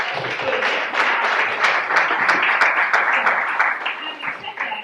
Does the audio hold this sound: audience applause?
yes